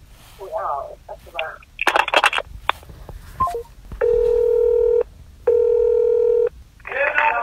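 A telephone on a prank call is handled and dialed, with clicks and keypad tones, then two long steady ringing tones, loud and close, and a voice speaks briefly between them.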